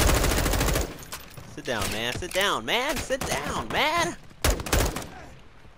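Gunfire in the Modern Warfare 2 video game campaign: a dense burst of automatic shots opens the clip, sharp cracks return near the end, and a voice talks through the middle.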